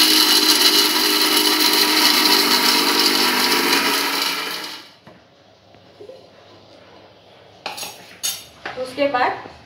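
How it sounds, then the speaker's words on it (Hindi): Mixer grinder whirring loudly as it grinds peanuts for green chutney, a steady dense roar for about five seconds that stops abruptly, followed by a few scattered clinks and rattles of the jar and utensils. "मूंगफली मिक्सर में डालते हैं।"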